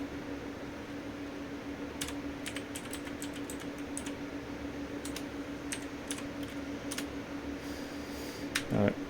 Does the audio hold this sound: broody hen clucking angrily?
no